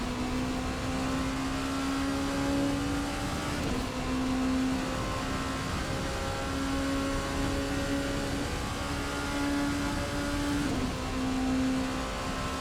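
A Ferrari race car on the Daytona circuit in a racing video game drones steadily, a sustained engine tone that rises and shifts pitch through gear changes, continuous and fairly even in level, with no talking.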